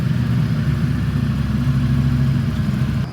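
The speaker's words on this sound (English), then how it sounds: "This is my last startup with the stock exhaust. Let me start it up right quick. This is what it sounds like." A Ducati Streetfighter V4S motorcycle on its stock exhaust runs close by with a loud, steady, deep rumbling idle that holds even throughout, with no voices.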